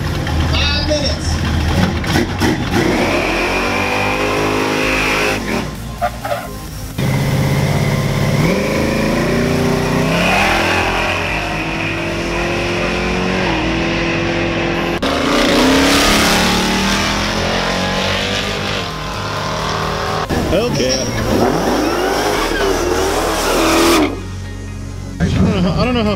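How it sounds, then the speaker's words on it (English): A car does a burnout at a drag race during a car show in Oklahoma, a loud, sustained engine roar with revving swells and tire hiss, and voices talk over parts of it. "Burnout."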